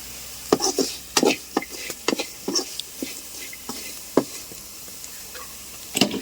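Ivy gourd frying in hot oil with chili powder crackles and pops in scattered sharp bursts, with the scrape of stirring in between, close and fairly loud, no talking.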